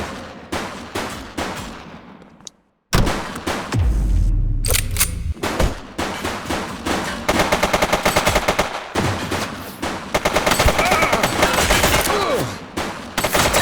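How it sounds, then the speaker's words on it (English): Gunfire in the police video game The Precinct: rapid automatic bursts and single shots crackle almost continuously, loud and close, with a brief silent gap early on and sporadic voices mixed in. "Shots fired!"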